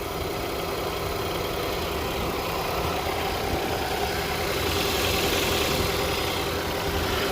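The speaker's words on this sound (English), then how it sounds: "the motor sounds kind of rough" A 2018 Ford Escape engine with low coolant idles roughly in a steady, unbroken drone that rumbles close by with no voices over it.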